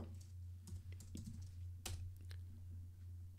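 Someone types on a computer keyboard, producing quiet, irregular key clicks and taps close by over a steady low hum, with no talking.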